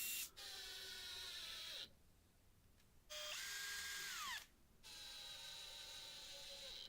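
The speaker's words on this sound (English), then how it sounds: "I also drilled through into the sides just to prevent splitting" A power drill bores through thin wooden cabinet sides in three bursts of high whine with short pauses between, the motor pitch sliding as it slows.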